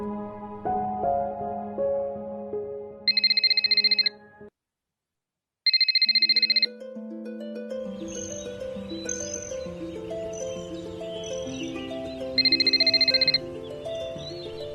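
Telephone ringing in a Hindi school-broadcast drama: three bursts of a bright electronic ring, each about a second long and separated by gaps, heard alone and then over a steady backdrop of background music.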